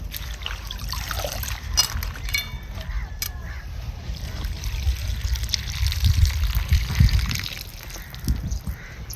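Fresh green giloy (gulvel) leaves being rinsed by hand in water, with soft trickling, sloshing and splashing close by, plus low handling noise through the clip.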